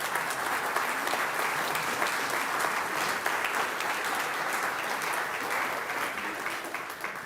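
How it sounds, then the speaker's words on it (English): A church congregation claps steadily for the treasurer and secretary, a dense, even round of applause filling the room at constant volume, tapering slightly at the end. "I wish you'd give them a round of applause."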